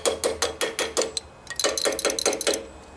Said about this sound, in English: the way to get this off is to just give it a little rap